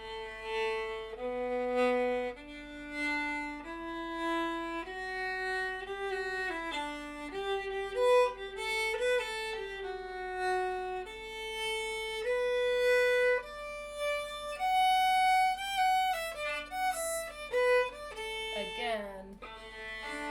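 A lone fiddle plays the B section of the old-time tune "Hawk is a Mule" at a moderate tempo, with clear bowed melodic phrases, close and fairly soft, and a low steady hum underneath.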